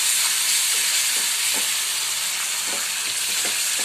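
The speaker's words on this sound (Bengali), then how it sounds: "দই দিয়ে কষা কষিয়েছি" Parwal (pointed gourd) masala with sour yogurt sizzles steadily in a pan, a loud, dense frying hiss with occasional soft stirring scrapes, no voices.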